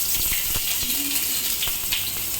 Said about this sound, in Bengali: দেখতে পাচ্ছ এটা ফ্রাই হচ্ছে